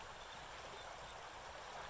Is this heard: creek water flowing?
yes